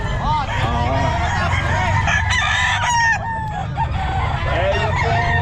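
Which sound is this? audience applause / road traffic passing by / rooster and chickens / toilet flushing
rooster and chickens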